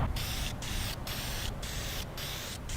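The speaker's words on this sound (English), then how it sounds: "I'll finish these up with a couple of coats of spray lacquer." Steady hiss of an aerosol can of spray lacquer in several bursts, with brief pauses between them, close and fairly loud, coating a wooden pencil holder.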